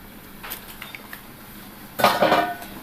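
A spoon stirs rice with lemon juice in a cooking pot for mutton dum biriyani, giving a few light clinks and scrapes, then a louder burst of metal-on-pot scraping near the end.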